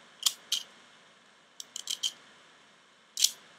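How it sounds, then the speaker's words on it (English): Sharp scissors snip around a layer of a paper flower in short, crisp cuts: a couple of quick snips, a pause, a rapid cluster of four, then one more after a gap, close and quiet. "this scissor is working great"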